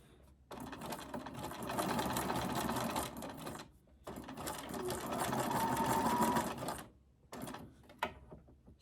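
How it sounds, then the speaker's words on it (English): A sewing machine stitches a simple decorative zigzag on a journal tag in two long, steady runs of rapid mechanical chatter, separated by short pauses, ending with a few clicks of the mechanism. "a decorative zigzag, just a simple zigzag"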